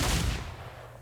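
A shotgun fires pellets in the Western game Outlaws of the Old West, one sharp, loud blast up close that quickly fades into a short, dull echo.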